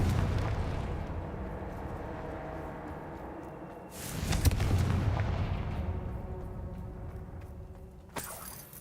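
Confringo fire spells burst repeatedly in the Hogwarts Legacy video game, a rumbling series of booming blasts with a loud explosive surge midway and another sharp hit near the end, no voices.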